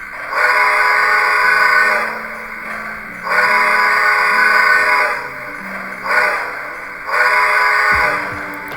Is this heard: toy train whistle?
yes